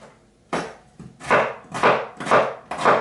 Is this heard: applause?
no